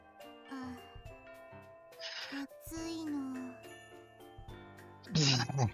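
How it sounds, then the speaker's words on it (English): A school bell chime in a video game plays as a bright tinkling jingle of tonal notes, joined by synthesized melodic tones and short voiced sounds that recur across the stretch at a moderate level. "More school bells."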